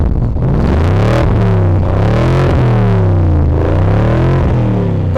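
A BMW X5 M with a 4.4-litre engine roars loud and close, its harsh pitch swelling and falling through several rev surges in a continuous run, with no talk.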